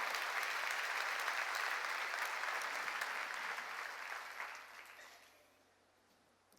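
A church congregation at a summer mountain revival meeting claps together to give glory to God, a dense sustained round of applause that fades out over the last two seconds.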